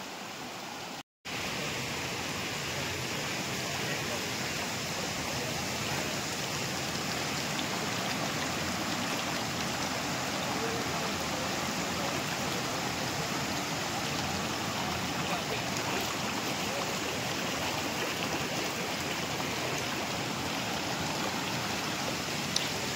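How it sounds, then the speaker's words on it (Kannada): Floodwater after heavy rain pours through the courtyard of the Horamatha temple at Nayakanahatti in a soft, continuous rushing hiss, steady and fairly distant throughout, broken only by one brief dropout near the start. "ನಾಯಕನಹಟ್ಟಿ ಹೊರಮಠ ದೇವಸ್ಥಾನದ ಆವರಣದಲ್ಲಿ ತುಂಬಿ ಹರಿಯುತ್ತಿರುವ ನೀರು"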